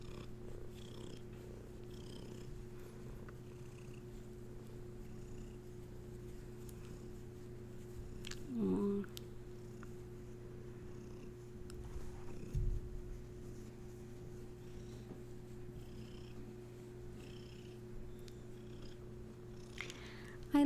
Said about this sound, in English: And purring at the microphone to all of you.